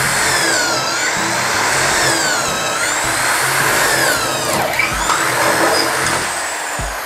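A cheap Dong Cheng power drill runs at a steady, slow speed as it bores, giving a continuous whining, whirring drone that stays loud and close throughout with no speech.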